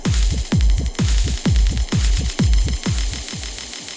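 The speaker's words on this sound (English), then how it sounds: "So that's a longer delay, and then as you bring it back up, it shortens the delay." A Pioneer DJM-900nexus mixer's dub echo effect repeats a thumping beat in loud, evenly spaced pulses that smear and trail off, the delay time shifting as the effect is adjusted.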